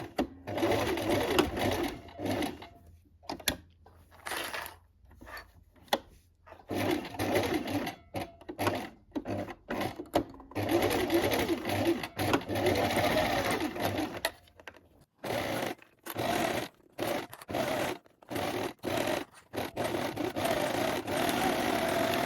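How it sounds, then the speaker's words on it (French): A sewing machine stitching a seam on a pair of shorts one centimetre from the edge, running in loud, close bursts of rapid whirring broken by short pauses. "Vous allez coudre à 1 cm du bord et arrivé à l'intersection"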